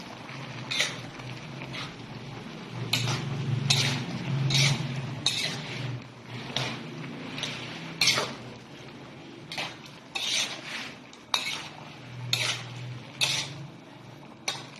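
Creamy chopsuey with evaporated milk stirred in a pan, with the spoon scraping and clinking against the metal in an uneven rhythm of close, distinct strokes and a soft bubbling underneath.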